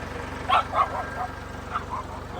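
A dog gives a few short, sharp barks, two close together and one more after a pause, over a low steady hum.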